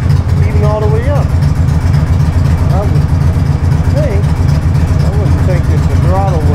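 Low, steady idle of a 2003 Victory V92C motorcycle engine, a constant rumble throughout with someone talking over it.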